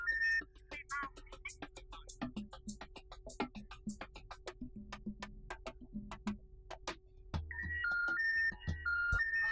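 Mobile phone ringtone in a Vietnamese TV drama, a repeating electronic melody of short bright tones with ticking pulses, later a steadier tune, playing alone with no talk.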